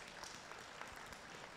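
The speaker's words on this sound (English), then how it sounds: "I believe that deserves a round of applause right there for a great job." Applause from a church audience at a homecoming service, a soft, steady patter of many hands with a few sharper individual claps standing out, heard faintly for under two seconds.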